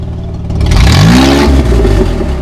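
A Holden Commodore with its exhaust removed, revving hard and loud up close, the raw unmuffled engine note climbing and swelling, then holding at a rough, throaty roar.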